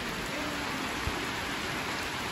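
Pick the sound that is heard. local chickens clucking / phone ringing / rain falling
rain falling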